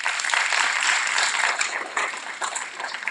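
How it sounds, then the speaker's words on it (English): Steady, dense applause from an audience at a university moot court welcome ceremony, a continuous wash of many clapping hands that stays loud and even throughout, with no voices over it. "please give them a round of applause now"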